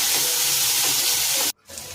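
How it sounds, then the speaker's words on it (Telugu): Chopped onion with a little salt and turmeric fries in a pan, giving a loud, steady hiss up close that cuts off abruptly and then resumes more quietly. "ఉల్లిపాయ వేగడానికి కొద్దిగా సాల్ట్, కొద్దిగా పసుపు వేసుకొని ఫ్రై చేసుకోవాలి ఫ్రెండ్స్"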